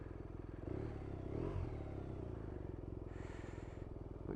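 A Kawasaki Z1000SX motorcycle idles steadily up close, a low even engine throb running throughout with a brief rise near the middle.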